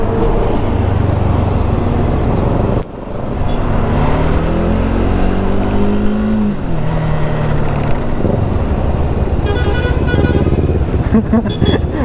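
Several superbike motorcycles ride together on a highway, their engines droning loudly with rising and falling revs and a passing whoosh of traffic, heard close and continuous throughout.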